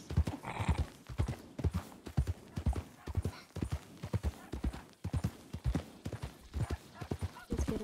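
Hooves pound in a fast, steady galloping rhythm as a horse runs in the Red Dead Redemption 2 video game, loud and close throughout with no talking over it.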